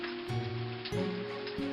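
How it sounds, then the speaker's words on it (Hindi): Heavy rain pours steadily in an animated story set around a bus in a flood, a dense continuous hiss with some tonal sounds layered over it. "इतने में ऊपर से जोर से बारिश होने लगती है।"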